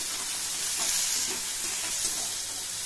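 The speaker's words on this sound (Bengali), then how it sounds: "একটু ভেজে নেব।" Pieces of pumpkin, papaya and carrot sizzle gently in a pan while the vegetables for an oats khichdi cook, a soft, even frying hiss that stays quiet and continuous.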